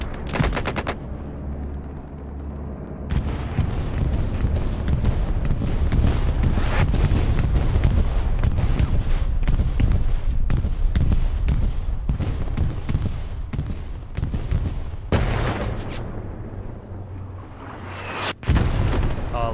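Grenade explosions and rapid gunfire in the video game Hell Let Loose, a dense, loud barrage of booms and automatic bursts that continues almost without pause, with a few sharp blasts standing out.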